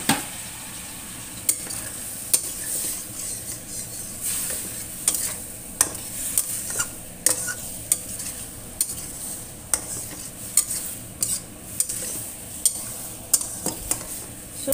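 Macaroni is stir-fried in a pan after a little water goes in, with a spatula scraping and clinking against the metal in irregular strokes over a steady background sizzle.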